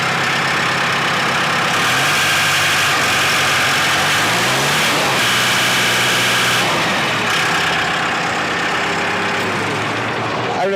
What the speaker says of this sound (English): I don't know about you, but to me that sounds like a real tractor.